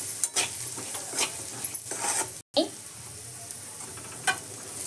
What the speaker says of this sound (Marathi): आता आपण वरतून शेंगदाण्याचा कूट घालतोय त्याच्यामध्ये, ते पण असं परतून घेतोय आपण थोडंसं।